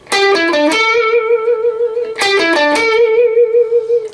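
Electric guitar plays a short blues lick, played twice: a quick hammer-on run up the neck that ends on a long, wavering vibrato note. Bright and close, with no talking.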